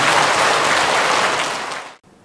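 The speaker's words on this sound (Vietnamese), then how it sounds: "Xin quý vị hãy dành những tràng pháo tay" An audience at a Buddhist Dharma talk applauds a visiting venerable lecturer, a dense crowd clapping that fades over about two seconds and then cuts off abruptly.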